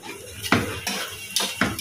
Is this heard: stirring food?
yes